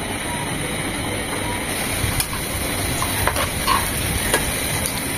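Chopped garlic and onion fry in ghee for a tempering, a dense, even sizzle that fills the whole clip, with a few faint clicks of stirring on top.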